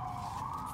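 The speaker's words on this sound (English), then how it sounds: "Wouldn't be a nice spring day without sirens." Emergency vehicle siren wailing outdoors on a spring day, a steady high tone heard through the walls of a workshop during a guitar kit build, continuous and moderately loud for under a second with no talk.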